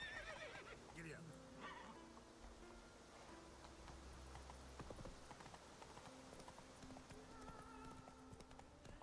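Horse hooves clip-clop at a steady walking rhythm in The Witcher 3, joined by a horse's whinny and a low game soundscape with faint voices.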